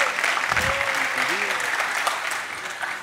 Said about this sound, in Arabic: تصفيق برشا على أمل